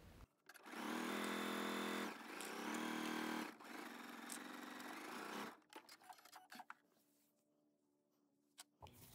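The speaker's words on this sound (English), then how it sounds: "I headed to my machine and then I used a 3/8 of an inch seam allowance and sewed it all the way down" A sewing machine stitching a scrunchie seam with a 3/8-inch seam allowance, running in loud continuous whirring bursts with a brief pause, then stopping and giving way to quiet handling sounds.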